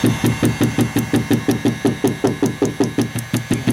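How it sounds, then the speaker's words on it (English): Hammer tapping a door panel seal with butyl tape onto a BMW X3 door, around seventeen quick, evenly spaced knocks in a steady rhythm, close and fairly loud. "And hammer it on."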